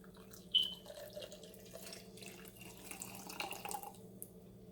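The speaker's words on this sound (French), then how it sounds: "je vais ajouter juste un verre d'eau dans l'équivalence de 100 ml" About 100 ml of hot boiled water poured into a glass, a soft, close, continuous trickling stream with a faint clink at the start, quiet and without talk.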